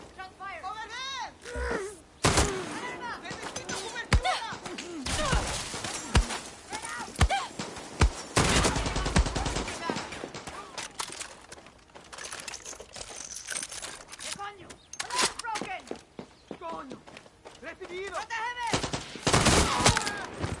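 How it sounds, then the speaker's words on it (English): Gunfire bursts in the open-world shooter Far Cry 6, sharp cracks scattered through a busy game scene with voices shouting over the action. "Shot fired."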